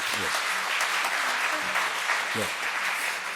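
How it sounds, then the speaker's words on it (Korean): A church congregation gives sustained applause to its choir after a hymn: a dense, even roar of many hands clapping throughout, with a voice speaking briefly over it a few times. "우리 은혜로운 찬양해 주신 우리 성가대 우리 격려의 박수 한번 하겠습니다"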